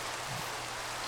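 Steady Minecraft rain pours across the whole moment, a constant broadband hiss with no talk over it.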